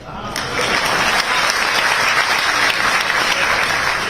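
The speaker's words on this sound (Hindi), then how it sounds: "आप तालियां वगैरह पीटते" Sustained audience applause at a political speech in Hindi, dense steady clapping from a large crowd filling the whole stretch at close, loud level.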